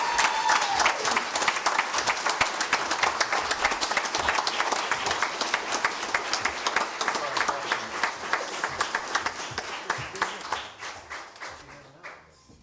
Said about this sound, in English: Another round of applause for these first responders.